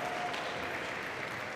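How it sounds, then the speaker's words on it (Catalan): Applause at a university graduation ceremony: a steady, dense wash of clapping from a large crowd, even in loudness throughout the short stretch, with no voices heard over it. "A veure aquests aplaudiments, com acompanyeu."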